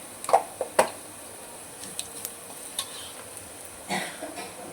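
Garlic, asafoetida and turmeric frying in oil for a spicy drumstick curry, a soft, low sizzle close by, broken by several sharp clacks of a spoon against the pan.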